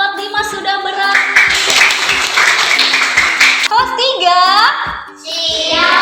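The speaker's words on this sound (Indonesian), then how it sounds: "Teman-teman, tepuk tangan" A class of children applauds, with dense steady clapping for a few seconds, mixed with children's voices and followed by more talking.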